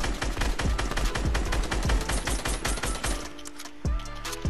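Rapid bursts of gunfire from a French Cash Cup battle-royale match, dense and loud for about four seconds, then a short pause before the shots resume near the end.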